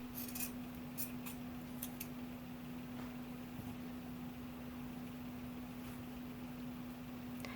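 Scissors snip through the end of a giant yarn with a few quick, crisp cuts near the start, over a steady low electrical hum in a quiet room.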